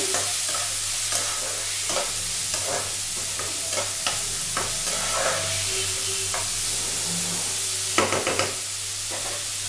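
Chopped onion sizzles steadily in hot oil with curry leaves while being cooked for a mustard-pumpkin dish, with scattered stirring clinks and scrapes over a constant frying hiss and a low hum.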